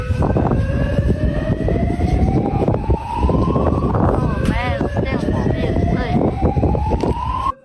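Emergency vehicle sirens wail at a hotel fire in the night, loud and continuous with rising tones, layered over traffic rumble and background voices.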